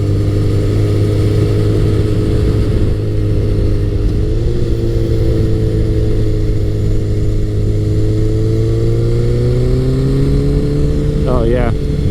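A Honda CBR1100XX Blackbird motorcycle accelerates on the road, its engine drone climbing steadily in pitch with a smooth rising whine, heard close from the rider's position with heavy wind rush throughout.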